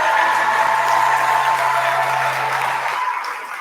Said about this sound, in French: vous pouvez vous applaudir parce qu'on l'a fait